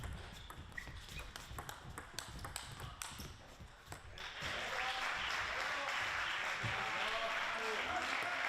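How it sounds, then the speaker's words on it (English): Crowd at a featured table tennis court during a game 7 at the Pan American Cup, scattered claps and taps at first, then a sustained louder swell of cheering and applause filling the hall, with some voices mixed in. "Now you hear the crowd getting louder around this featured court"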